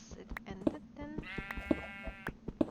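Minecraft sheep bleating in a short burst within the game, with repeated sharp clicks and soft background chatter.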